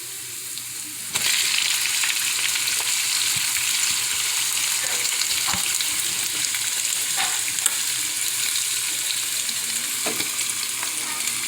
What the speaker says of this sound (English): Now we're going to add it to our hot oil and our frying.